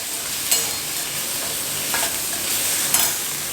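Vegetables with pre-boiled sweet corn sauté in a pan with a continuous hiss of sizzling, punctuated by a few sharp scraping clicks of stirring.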